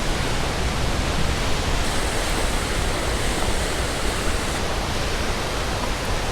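A small trickling waterfall in a mountain river along the Beartooth Highway gives a steady, broadband rush of falling water that holds even and fairly loud throughout, close by, with no voices.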